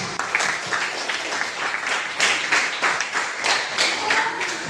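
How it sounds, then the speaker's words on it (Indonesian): Audience applause at a school classroom presentation, moderately loud with irregular clusters of claps that swell and fade over a few seconds. "Oke, terima kasih. Tepuk tangan buat"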